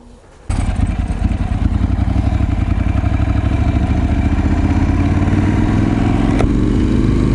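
A motorcycle engine starts up loud and close, idles with a rough, pulsing rumble, then revs rising as the bike pulls away, heard alone without talk.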